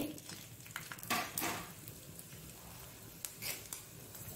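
Mustard seeds, chili and cumin fry in hot coconut oil, giving a steady close sizzle broken by a few sharper crackling bursts and light scrapes of a utensil against the pan.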